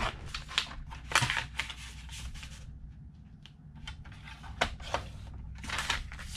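Holographic adhesive vinyl sheet being cut by hand, heard as close, dry crisp cutting and rustling strokes in uneven bursts with short quiet gaps, no talking.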